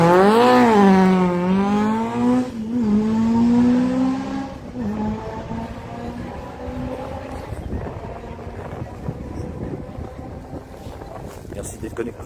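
A historic rally car in the VH class passes on a stage of the 40th Rallye de Neufchâtel-en-Bray. The engine note climbs and falls loud and close, then fades into wind noise on the microphone while someone speaks French over it.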